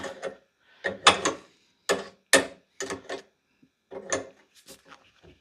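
Lock nuts are tightened on a freshly welded tie bar for a Ford Mk2 Fiesta XR2 rally car: close clicking ratchet bursts and metallic turns in short irregular clusters, with gaps between.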